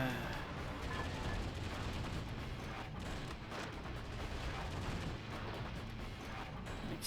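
A cage exploding in a video game, giving a dense, continuous barrage of overlapping blasts and crackling detonations, loud and unbroken throughout, with a voice talking faintly beneath the din.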